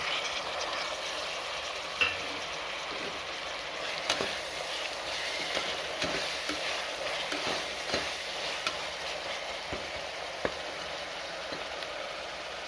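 Tomatoes sautéed with ginger and garlic in a pan: a steady, close sizzle with frying crackle throughout, broken by occasional clicks and scrapes of stirring.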